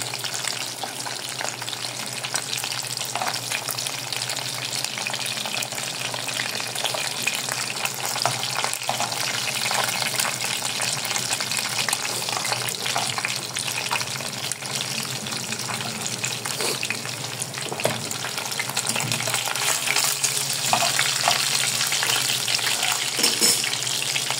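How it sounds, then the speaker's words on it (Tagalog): Onions sizzle and fry in vinegar in a pan, a steady loud hiss of hot liquid with scattered crackles and stirring scrapes throughout, unchanging in level and with no talking. "Niluto natin sa suka bago natin lagyan ng toyo."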